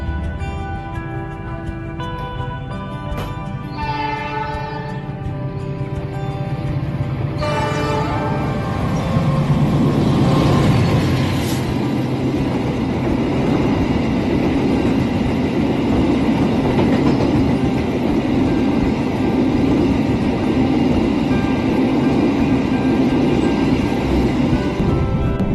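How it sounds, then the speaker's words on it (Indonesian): Argo Wilis passenger train crossing on Indonesian rails, opening with a horn-like tonal blast, then building into a loud, sustained rolling rumble and clatter of passing wagons. "Tunggu bersilang dengan kereta api Argo Wilis."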